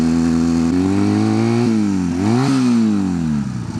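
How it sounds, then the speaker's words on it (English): A motorcycle fitted with a Harley Davidson slip-on exhaust idles and revs loudly up close, its throaty engine note rising and falling in several steady swells before dropping away. "funny is it has a Harley Davidson slip-on exhaust on this thing"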